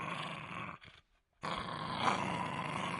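A dog growls low and rough near a guarded army ordnance building with an electrified fence, a sustained throaty rumble that breaks off into a short silence before resuming strongly.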